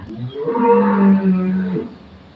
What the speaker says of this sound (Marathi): आमच्या गाईचा कसा कालवा चाललाय बघा